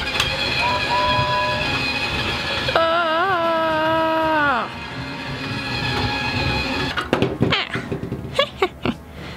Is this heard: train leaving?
yes